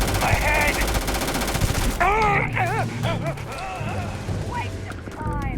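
Video game gunfire rattles in a rapid, continuous stream, then gives way to wailing, groaning character voices over the ongoing din.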